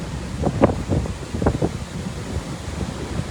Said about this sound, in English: The wind is howling through here.